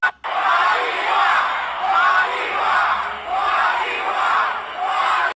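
A large pageant audience at Miss Universe cheers and yells continuously, a loud, dense roar of many voices swelling in waves over about five seconds.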